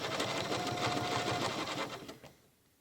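A sewing machine stitches a quilt along a channel, its fast steady needle rhythm loud and close, running continuously before slowing and stopping near the end.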